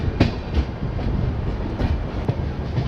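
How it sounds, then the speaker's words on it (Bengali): A passenger train slows as it enters Jamalpur Junction, heard from on board as a loud, continuous rumble with rhythmic wheel clacks over rail joints. "বিকাল 5টা বেজে 10 মিনিটে ট্রেন ধীরে ধীরে জামালপুর জংশন এন্টার করছে"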